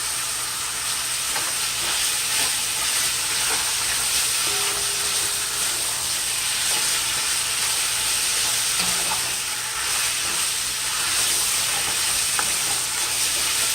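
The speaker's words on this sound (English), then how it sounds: "You want it stir fry." Chicken and mixed vegetables for a Thai red curry stir fry on high heat in a Dutch pot, giving a constant loud sizzle and hiss with occasional stirring scrapes, close up and without voices.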